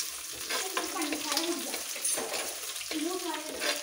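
Green chillies fry in oil in a pan with garlic and ginger, giving a close, steady sizzle broken by stirring scrapes, while a voice talks over it.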